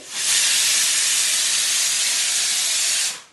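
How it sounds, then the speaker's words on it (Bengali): A pressure cooker cooking masala khichdi on a gas stove lets off its whistle, a loud, steady, close rush of hissing steam that holds for about three seconds and then stops abruptly. "3টে সিটি হয়ে গেল।"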